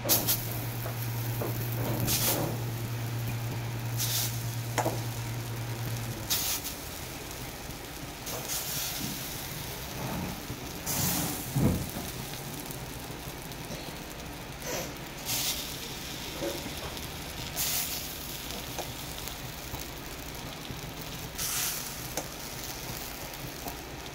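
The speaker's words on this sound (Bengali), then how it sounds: "বড়াগুলো একটু পুরো লাল লাল করে সব ভাজা হয়ে গেলে বড়াগুলো আমি তুলে নেবো" Khesari lentil fritters fry in hot oil with a steady, close sizzle, broken by occasional clicks and clatters from handling the pan.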